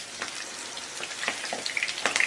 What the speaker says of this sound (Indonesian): Kalau sudah panas, kita masukkan tahunya. Dan kita akan goreng sampai nanti warnanya kecoklatan dan sudah berkulit gitu